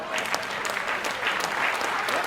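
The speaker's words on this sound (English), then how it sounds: "Give Eric a big round of applause and a souvenir." An audience at a corporate summit magic show in Newport Beach applauds a volunteer named Eric, a steady burst of crowd clapping with a few faint voices mixed in.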